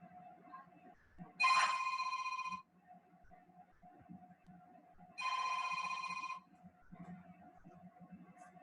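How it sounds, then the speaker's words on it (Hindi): A telephone rings indoors in two separate bursts of about a second each, moderately loud over a steady background hum, with faint ambient noise between the rings. "ये फोन आ रहा है, ले लें।"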